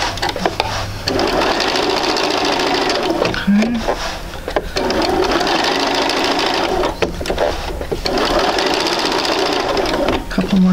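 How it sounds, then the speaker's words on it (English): A sewing machine runs stitches around a circle in quilting fabric, loud continuous motor hum and needle rattle in long runs, stopping briefly twice, with a voice heard in the pauses. "we're just going to sew in our circle"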